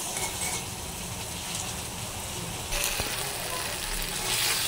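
Curry being sautéed in a pan gives a continuous dense sizzle with scraping stirs, a brief knock midway and the sizzle swelling louder in the second half, with no talk over it.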